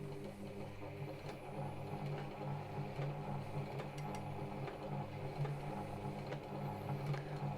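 A computerized electronic sewing machine runs under foot-pedal control, giving a steady, close mechanical whir with a fast ticking needle rhythm throughout, with no talking.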